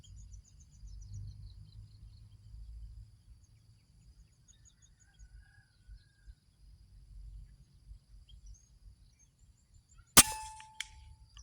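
A single air rifle shot at a tree target outdoors: a sharp, close crack with a brief metallic ring near the end, after about ten seconds of quiet with faint insect and bird sounds.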